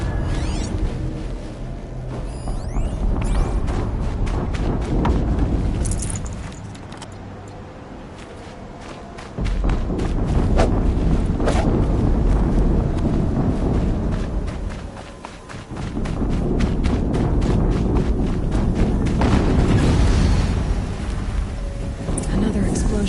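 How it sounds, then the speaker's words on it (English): Explosions boom in the Horizon Zero Dawn game, loud and heavy, arriving in long rumbling bursts with brief dips between them and crackling debris on top. "Another explosion."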